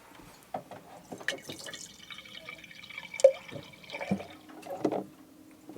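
Water is poured and trickles into the reservoir of a stovetop coffee maker aboard a sailboat in Sicily, faint dripping and splashing with scattered clinks and handling noises, close by and quiet.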